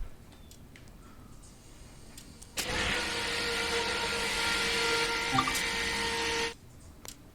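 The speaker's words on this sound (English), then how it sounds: "You want to prime that fuel." Priming the fuel on an SD40-2 diesel locomotive in Train Sim World 2 sets off a steady electric pump whir that starts abruptly, holds for about four seconds, then stops, amid faint clicks.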